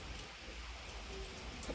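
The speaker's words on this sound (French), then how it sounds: "Écoutez la pluie." Rain falls in a steady, faint, even patter, with no voices present.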